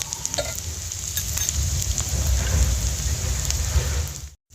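Chopped onion fries in a pan, giving a dense, even sizzle like light rain that holds steady and close, then cuts off abruptly at the end.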